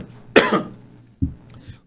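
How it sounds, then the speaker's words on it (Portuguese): Two coughs from one person, close and fairly loud: a harsh, drawn-out hack followed about a second later by a shorter, lighter cough, with no talking. "essa tosse também é uma gripezinha"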